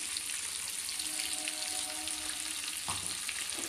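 A paste of mustard, poppy seed and green chilli sizzles steadily in a frying pan with lightly fried prawns, a loud continuous hiss with occasional stirring knocks underneath.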